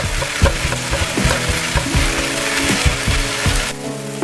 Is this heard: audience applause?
no